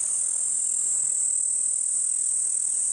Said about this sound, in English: Listen to the incredible shrill coming from this acacia tree and the cicadas or cicadas within it.